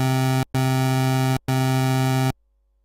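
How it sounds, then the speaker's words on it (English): Three sustained bursts of a bright, nasal synthesizer pulse wave, evenly spaced by short gaps, played loud and clean without any talking. "A variant of this waveform is a pulse wave"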